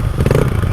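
A big bore two-stroke motorcycle in the desert, a short loud burst of the engine running close by, with a raspy, ringing exhaust note.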